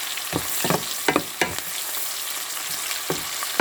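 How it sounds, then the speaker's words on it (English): Onions sweat in a pan with a steady, close sizzle, and several spatula scrapes and taps come in irregular bursts while nobody speaks. "And I'm going to sweat my onions."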